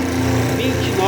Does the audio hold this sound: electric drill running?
yes